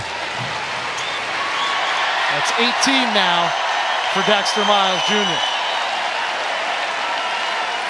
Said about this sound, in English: Dax was trying to give the home crowd one more chance to cheer